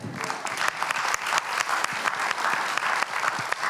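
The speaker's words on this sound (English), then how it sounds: "Round of applause to you." A room full of people applauding at a Hispanic Heritage Month screening event, continuous and fairly loud, with a few sharper individual claps poking out of the wash and no speech.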